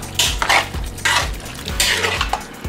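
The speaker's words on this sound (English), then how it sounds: "Now I'm just gonna mix it." Rigatoni pasta is mixed with ground beef spaghetti sauce in a pot, with close, repeated clinks and scrapes of utensil against metal in an uneven rhythm of wet stirring.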